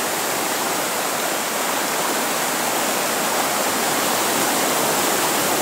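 Floodwater of the Razdolnaya river rushing through village streets in Pokrovka, a loud, continuous broadband roar of flowing water, steady and close, with no voices.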